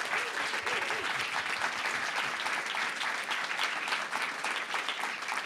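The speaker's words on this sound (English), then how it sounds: "Would you mind clapping again?" An audience at a public radio journalism event claps steadily, producing a full, sustained round of applause at moderate volume that runs throughout, with a faint voice briefly audible near the start.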